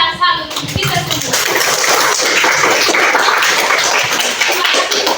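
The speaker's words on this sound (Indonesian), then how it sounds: "Tepuk tangan salut kita semua" A classroom of children claps together after a lesson answer, a dense steady patter of small hands filling the room from start to finish, with a voice briefly heard at the beginning.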